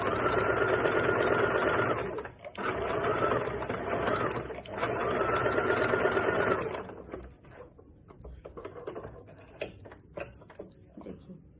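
A sewing machine stitches a princess cut blouse in fast, loud running bursts with brief pauses, then slows into softer, intermittent clicks and handling of fabric.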